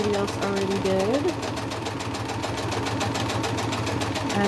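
A sewing machine runs a straight stitch along a seam line on a crazy crumb quilt block, a steady, rapid mechanical whir at moderate volume, with a brief whine shift early on.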